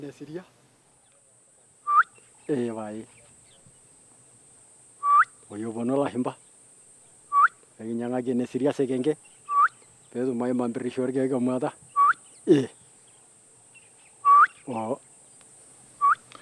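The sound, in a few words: hunters mimicking the honeyguide bird's call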